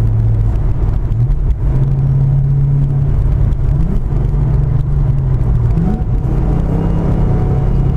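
Ford Mustang Coyote 5.0 V8 accelerating away, a loud steady engine drone that rises in pitch in stepped pulls around two and six seconds as it builds speed, heard from close behind without talking.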